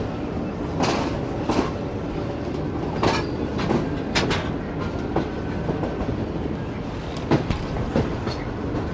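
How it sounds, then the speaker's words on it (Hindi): The Shalimar Express passenger train rolling out of Multan, heard from aboard: a steady rumble with rhythmic wheel clacks and occasional sharp clanks over the rail joints. "फाइनली मुल्तान को अलविदा कह दिया है ट्रेन ने"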